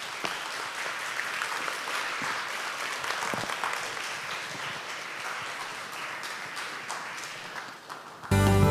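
An audience at a science lecture on light applauds to welcome a professor, steady dense clapping throughout at a moderate level, ending abruptly.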